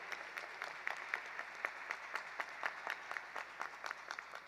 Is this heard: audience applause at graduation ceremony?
yes